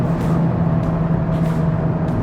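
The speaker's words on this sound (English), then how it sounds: "downshift, rev match" A Honda Type R engine revs up on a rev-matched downshift into a hard corner, a steady low drone heard from inside the car, close and fairly loud, with no voice over it.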